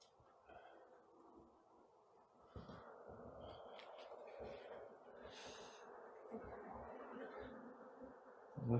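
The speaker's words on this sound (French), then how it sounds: "Les abeilles sont aujourd'hui bien occupées." A soft, continuous buzzing of many honeybees around a hive during a beekeeper's hive inspection, faint and uneven, with occasional louder passes as individual bees fly near.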